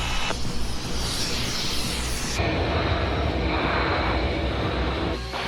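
Saab Gripen fighter jet taxiing and lining up on the runway for an air display, a loud continuous engine roar and whine that holds steady and close throughout.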